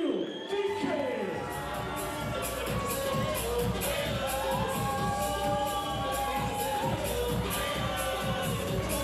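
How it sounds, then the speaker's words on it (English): A crowd at a K1 kickboxing title fight cheers and applauds for a young English fighter, a loud, sustained roar with whoops and claps, with voices and a booming announcer-style voice mixed in throughout. "Give this young man a massive round of applause to Owen, the real deal, Deakin."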